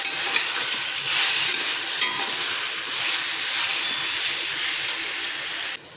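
Ripe mango curry with salt and coriander-cumin powder is stirred in a pan over low flame, giving a continuous close sizzle and scraping that stops abruptly at the end.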